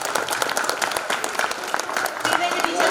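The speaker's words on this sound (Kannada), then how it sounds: "ಚಪ್ಪಾಳೆಯನ್ನು ತಟ್ಟಿ ನಾನ್ ಸ್ಟಾಪ್ ಆಗಿ" Non-stop applause for a teacher at a teachers' get-together event: dense, continuous clapping from a group, with voices mixed in throughout.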